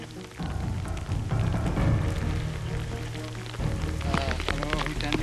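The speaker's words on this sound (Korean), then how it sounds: "심지어 굵은 빗방울이 떨어지기 시작한다." Heavy raindrops patter on a volcano mountainside where miners work, a fairly close, steady rainfall with a spoken voice running over it.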